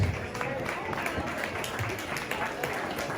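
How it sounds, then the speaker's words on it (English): A short burst of audience applause for a singer at a fashion show and birthday party, steady clapping from a crowd with faint voices mixed in. "Can y'all give her a round of applause?"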